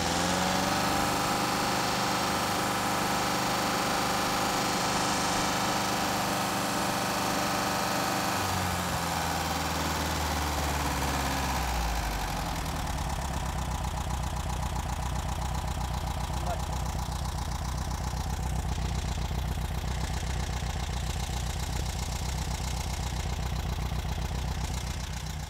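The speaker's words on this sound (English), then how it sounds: "The engine seems a lot more responsive now that we've got actual proper timing set in this engine." An air-cooled VW engine with a freshly timed 009 distributor idles steadily, advance set at 32 degrees; the running note shifts lower partway through and then settles into a continuous, even idle with no talk.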